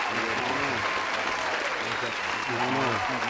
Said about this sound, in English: We gonna put some claps in there.